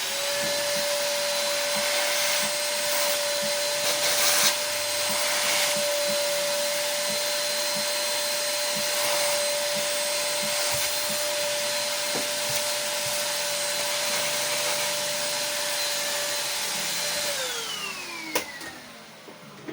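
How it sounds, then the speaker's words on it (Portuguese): Vacuum cleaner sucking drilling debris off an LG C400 laptop's plastic case, a loud steady close whine running for most of the stretch, then winding down in pitch as it is switched off near the end, no talk. "Aspirador de pó para tirar o material que está aí por cima."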